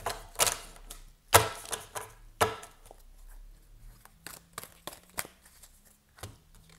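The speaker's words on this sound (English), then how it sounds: "I'm going to try and give this a ripple shuffle as well" Large tarot cards being ripple shuffled and handled: sharp fluttering bursts and soft taps at irregular intervals, close by, with no talking.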